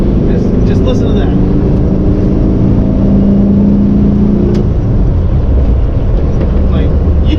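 A 1961 Volkswagen with a manual transmission drones loudly from inside the cabin, its engine rumbling steadily under wind noise with a sustained hum that drops off partway through.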